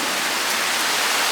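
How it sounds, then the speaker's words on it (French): Heavy rain falls in Thailand as a dense, even hiss, steady and loud with no break and no voices. "Mais il pleut de ouf là."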